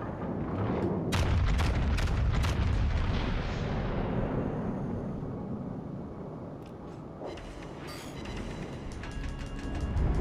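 Heavy naval gunfire from warships in World of Warships: Legends, a dense series of deep, booming salvos that merge into a continuous rumble, loud at first and slowly easing, with a few sharper bangs near the end.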